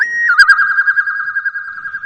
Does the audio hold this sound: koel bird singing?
yes